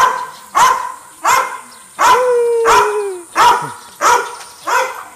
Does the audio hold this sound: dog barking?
yes